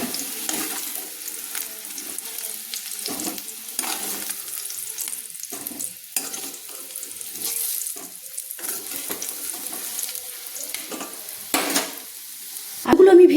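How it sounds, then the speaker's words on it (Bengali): Fried potatoes are lifted out of hot mustard oil in a wok, a continuous faint sizzle of frying oil broken by repeated scraping and stirring clatters of a spatula, with a louder knock at the close. "এবার আমি কিন্তু আলুগুলো তুলে নিচ্ছি"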